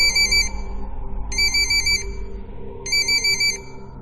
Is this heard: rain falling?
no